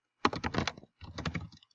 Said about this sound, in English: hit enter, hit tab, start typing your annotation here